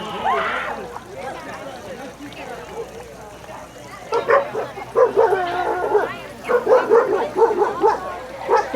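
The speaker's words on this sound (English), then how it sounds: "These are all the dogs that can be adopted." Dogs bark, yip and whimper at the Niles Dog Show, in repeated bursts that grow louder and busier in the second half, mixed with people talking nearby.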